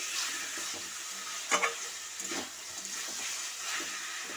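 Meat masala sizzles in a pan (kadai) while being stirred, with a soft continuous frying hiss broken by a few sharper scraping strokes early on, fairly quiet and without speech.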